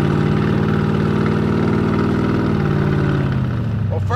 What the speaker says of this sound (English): you can hear it sounds amazing with those side pipes.